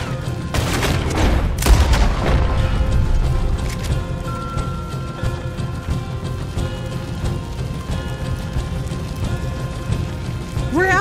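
A moonshine still blows up and burns in Red Dead Redemption 2: a cluster of heavy, close booms and bangs early on gives way to steady crackling fire and debris noise that continues for several seconds.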